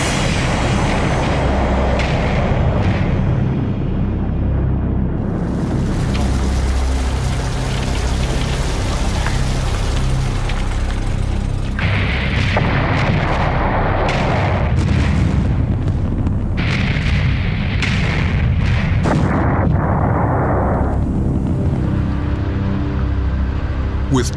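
Continuous heavy roaring and rumbling from rock blasting to level mountains, a dense sustained wash of noise with deep booms and crackling debris throughout, no voices.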